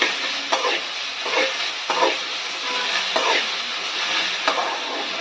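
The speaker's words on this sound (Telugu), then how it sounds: "ఫస్ట్ ముందు ఆయిల్లో ఇలా వేయించుకోవాలి" Okra fries in oil for a masala, a steady soft sizzle punctuated by about six regular stirring scrapes, close up with no talk.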